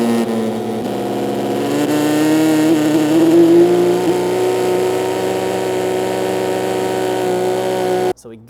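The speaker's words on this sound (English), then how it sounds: "Vitamix makes this easy work. We're gonna start low. We're gonna pump this up speed-wise." A Vitamix blender whirs loudly and steadily as it purees thick black-eyed pea hummus, with the motor pitch rising as it speeds up, then cutting off abruptly near the end.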